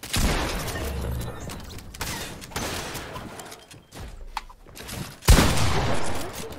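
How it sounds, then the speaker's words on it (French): Gunfire in an online duo arena video game, bursts of rapid shots and crackling fire in irregular clusters, with a sharp loud bang near the end and faint voices in the background. "C'est qui a tiré là?"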